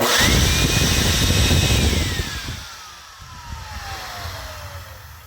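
A vacuum cleaner motor with a freshly polished commutator whines loudly and steadily, then winds down with a falling pitch as the roar fades to a quieter hum.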